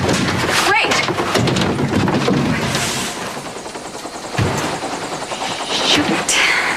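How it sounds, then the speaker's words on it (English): A helicopter drones in a soap opera scene, its rotor chop steady and fairly loud throughout, with voices and rustling mixed in and a sharp thud partway through. "It's a helicopter."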